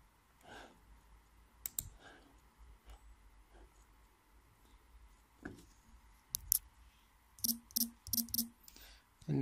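Sparse mouse clicks while working in a database program, single taps scattered through near-silence and ending in a quick run of four or five crisp clicks close to the microphone.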